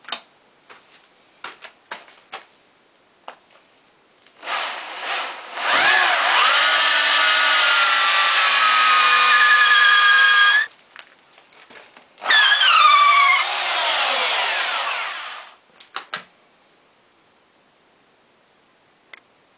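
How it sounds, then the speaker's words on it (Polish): A power drill bores holes into a wooden log, whining in two sustained bursts of several seconds each, framed by short clicks and knocks before and after, with quiet gaps between. "A więc bierzemy wiertarkę i robimy otwory."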